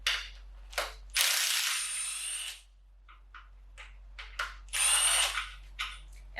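A power tool spins out 14mm motor mount bolts during a K24 engine swap teardown, with loud high-pitched whirring bursts of one to two seconds, short mechanical clicks and rattles between them, and quiet gaps.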